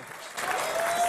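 Audience applause breaking out during a rap music video, a broad wash of clapping that swells after a quieter start and holds steady to the end.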